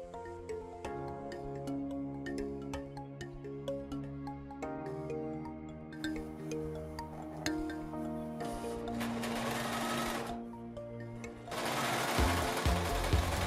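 A Gritzner 788 overlock sewing machine stitches a seam, its steady mechanical whir running beneath sustained musical tones, rising louder and denser toward the end.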